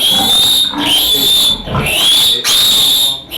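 Pigs squeal during a vaccination session, giving loud, shrill, sustained cries close by that repeat in several overlapping bursts with short breaks between them.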